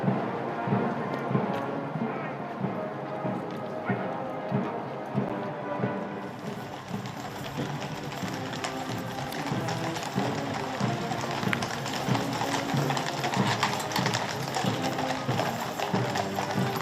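Horses of the Sovereign's Escort, the mounted ceremonial cavalry at Trooping the Colour in London, turning onto Horse Guards Approach Road. Their hooves clip-clop in a steady, dense patter over a loud crowd and parade din, with voices mixed in.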